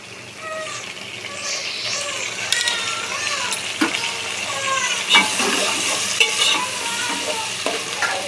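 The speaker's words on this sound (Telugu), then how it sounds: "ఇప్పుడు రెండు రెబ్బలు కరివేపాకు వేసుకుందాం టమాటాలు వేసుకుందాం" Curry leaves and tomatoes fry in a pan for a green bean and tomato curry, a steady close sizzle with scraping stirs and a few sharp clinks, while faint voice-like sounds drift in the background.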